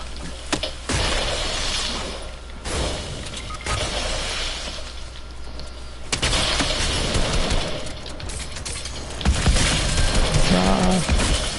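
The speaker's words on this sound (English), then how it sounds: "they're using a flare gun" A flare gun and gunfire ring out during a Fortnite live event, with dense, continuous bursts of shots, crackles and shattering impacts layered over game music and effects, while a player talks over the action.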